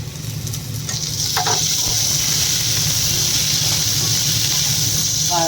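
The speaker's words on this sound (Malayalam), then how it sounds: "സൈസുള്ള രണ്ട് സവാളയാണ് ഇത് നല്ലോണം ഒന്ന് വഴറ്റിയെടുക്കണം" Two onions sauté in a pan for a mint chicken dish, giving a loud, continuous sizzle with faint stirring scrapes near the start.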